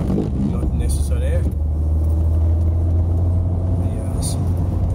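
A Citroen C3 engine pulls steadily uphill on a road near Stirling, a constant low drone and rumble with road and cabin noise, fairly loud throughout.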